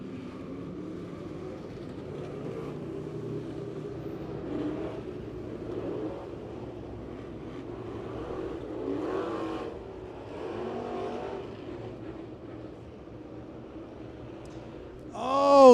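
Race cars at Lebanon Midway Speedway drone and rumble at a distance as Mason Beck spins out in front of the field, with engine noise rising and falling under an excited announcer.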